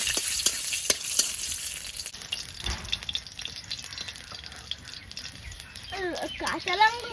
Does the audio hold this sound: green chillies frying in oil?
yes